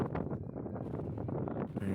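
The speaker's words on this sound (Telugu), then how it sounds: "చల్లగా ఉంది, గాలి అయితే మామూలుగా వీస్తలేదు" Strong, cold wind buffets the microphone at Mullayanagiri peak in Chikkamagaluru. It makes a continuous, loud rushing roar with gusty swells and no clear speech.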